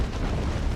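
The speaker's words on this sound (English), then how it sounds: "Now grenade launchers doing their thing on the garrison." Grenade launcher blasts hitting a garrison in the Dawn of War 2 strategy game, Chaos Space Marines against Orks, a dense rumbling barrage of booms at steady loudness with no pauses.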